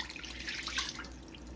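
Pot roast cooking liquid pours into a pan, a soft, faint trickling and splashing that runs continuously with small gurgles and no talking.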